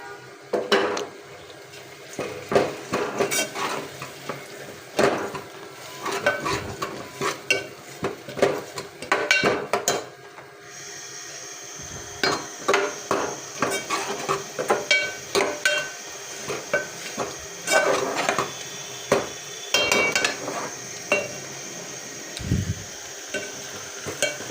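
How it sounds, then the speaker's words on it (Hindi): Spoon stirring a potato, egg and onion curry in a pot, with repeated scraping and clinking strokes in an irregular rhythm, close and fairly loud, plus a faint sizzle and water underneath. "अब अच्छी तरह से मिक्स करूँगी।"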